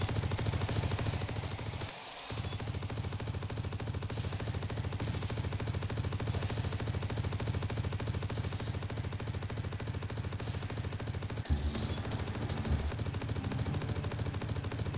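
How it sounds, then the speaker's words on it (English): Phalanx CIWS close-in weapon system from a TerraTech game mod firing as a steady, continuous buzzing roar of rapid rounds, with two brief gaps or shifts in the stream. "The Phalanx is working as expected,"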